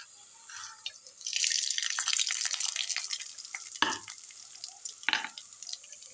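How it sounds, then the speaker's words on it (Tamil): Vadavam seasoning fries in two spoons of oil, a soft crackling sizzle with stirring and a few sharp scraping clacks, close and steady with no talk. "தாளிக்கிற வடவத்தை எடுத்து பொரிச்சிட்டு மிக்சியிலே போட்டுடலாங்க"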